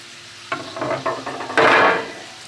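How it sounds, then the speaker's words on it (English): A metal grill grate is lifted off an Asmoke AS350 pellet grill, giving several clanks and scraping rattles close by, ending in a louder grinding scrape. "Grill grate, take that off."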